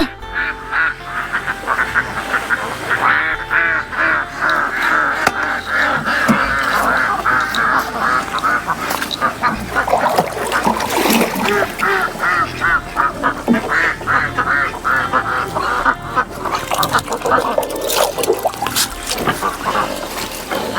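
A flock of ducks quacks busily and continuously nearby, overlapping calls in an uneven chatter, with occasional voices in the background.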